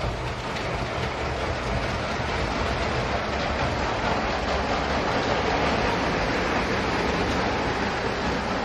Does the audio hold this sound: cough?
no